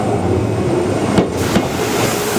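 A train rolls loudly over a railroad track switch in Japan, with two distinct bumps from the wheels crossing the gap under a steady rumbling roar.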